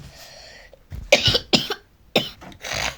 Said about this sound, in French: Désolée si je tousse en plein vidéo parce que je suis malade.